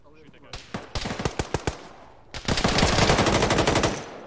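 Arma infantry gunfire: a string of sharp single shots, then dense sustained automatic fire close by, with voices talking faintly beneath.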